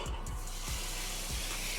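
Boiled chickpeas tumbling into a hot cooking pan for curry, a soft watery splash and sizzle with a few low thuds as they land, faint and close.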